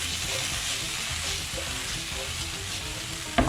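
Courgette pasta frying in a pan with soy sauce, a steady close sizzle with soft stirring scrapes running throughout.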